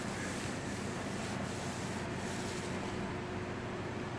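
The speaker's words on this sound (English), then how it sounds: "just sanding some of this primer" Steady, continuous abrasive rubbing of sanding primer on a surface with 220-grit paper, close and fairly loud, with a slight rhythmic sweep and no talking.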